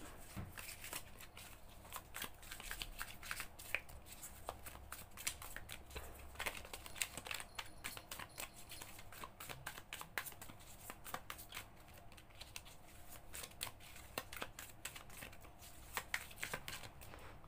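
A deck of tarot cards being shuffled by hand, steady rapid riffling and slapping of card stock that continues close and fairly quiet for the whole stretch, with no talking over it.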